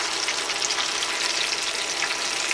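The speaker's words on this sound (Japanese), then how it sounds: "ニンニクね、あの上の方がちょっと足りなかったんでやってるんだけど、じゅわって音がいいわ" Garlic fries in hot oil for karaage chicken, giving a dense, continuous bubbling sizzle that stays loud and even throughout with no voices.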